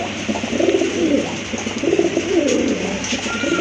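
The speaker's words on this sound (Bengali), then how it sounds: "আরেক জোড়া রাজগোল্লা কবুতর" A pair of Rajgolla pigeons cooing up close, their low rolling coos repeating steadily in overlapping phrases over a faint background hum.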